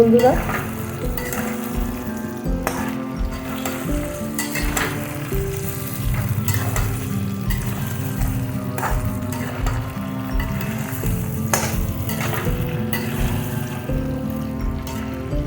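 Spices and new winter potatoes sautéing for aloo dum, a loud, constant sizzle in the pan broken by frequent scraping stirs, close and without talk.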